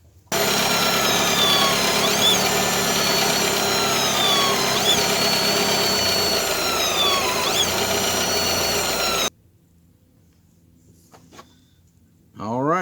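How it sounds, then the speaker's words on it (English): A car engine runs steadily with a rising and falling power steering pump whine as the wheel is turned back and forth, while the reservoir is being flushed after the wrong fluid was poured in; it then cuts off abruptly. "then I'm going to start the engine again, and then turn my steering wheel several times back and forth."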